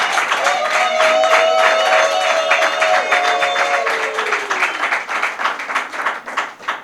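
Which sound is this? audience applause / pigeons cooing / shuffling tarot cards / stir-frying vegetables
audience applause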